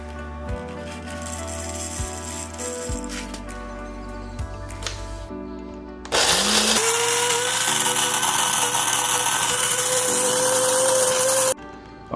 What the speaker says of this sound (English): I'm super excited to get these over to the burr grinder and break them down